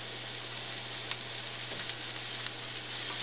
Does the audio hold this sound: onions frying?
yes